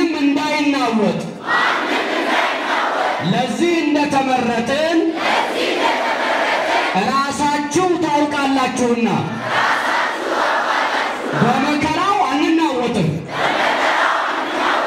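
A church congregation ululates in praise, bursts of high trilling cries swelling and dying away between stretches of a preacher's amplified speech, loud and close.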